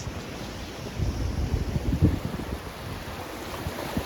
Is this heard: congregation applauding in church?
no